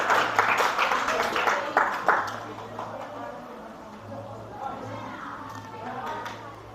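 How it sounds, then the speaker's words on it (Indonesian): A class claps for a student group. The applause is moderately loud at first, then fades after a couple of seconds, and voices carry on underneath. "tepuk tangan dulu buat kelompok 5"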